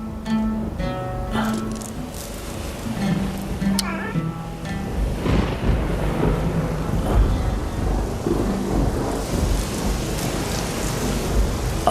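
Steady rain with rolling thunder builds into a dense, loud downpour with deep rumbles, while a voice and tonal sounds sit over it in the first few seconds.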